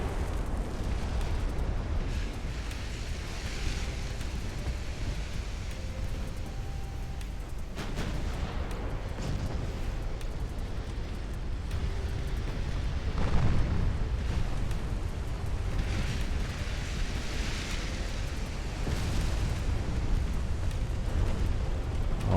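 Shell explosions rake an enemy warship's port side during a naval battle in Ultimate Admiral: Dreadnoughts, a dense continuous rumble of booms and bursts that swells in spots, steady and loud throughout with no one talking.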